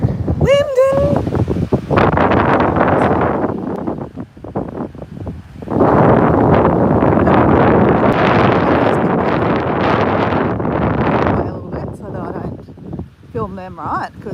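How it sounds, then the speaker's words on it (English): Strong wind buffets the microphone in loud, roaring gusts, with a brief lull in the middle, as people speak intermittently. "it is windy"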